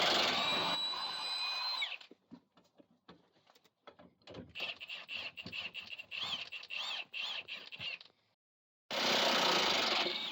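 A power tool whirs while removing the rear lower shock bolt on a 2006-2011 Hyundai Accent. It gives two close, steady bursts at the start and end, with quick clicking and rattling in between.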